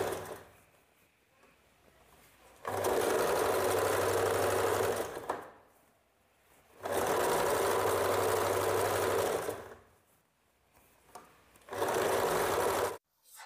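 A sewing machine stitches a blouse hem in three runs of steady, rapid mechanical whirring and clatter, each lasting a few seconds, separated by quiet pauses, close up and without talking.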